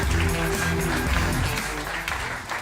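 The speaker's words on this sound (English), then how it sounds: "that means we got to applaud Tim as he comes to the stage" Audience applause at a live talk event as a speaker walks to the stage, steady clapping over stage music, loud and sustained, with a voice briefly speaking.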